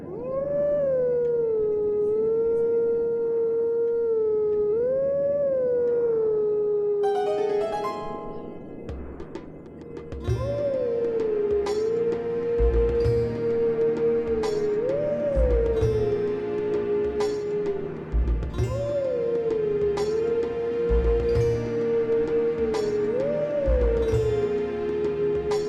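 Howling stone in Zelda: Twilight Princess, a wavering wolf-like howl melody that loops with rising and falling pitch, soon joined by game music with steady drums and layered tones.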